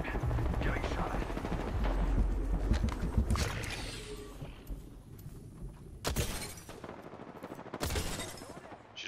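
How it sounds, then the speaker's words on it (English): Repeated gunfire from an Apex Legends firefight, with rapid bursts and sharp shots clustered near the start and more loud cracks later, all under steady game noise and talk. "Getting shot at."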